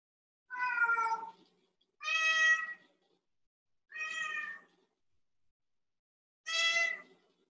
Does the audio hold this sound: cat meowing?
yes